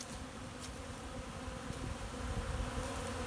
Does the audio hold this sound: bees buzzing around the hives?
yes